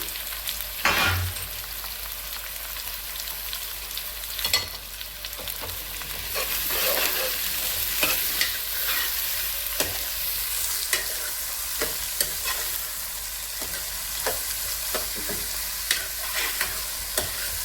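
Onions, green chillies and curry leaves fry in a pan over a low flame for mutton curry, a steady soft sizzle broken by repeated scraping stirs at irregular intervals.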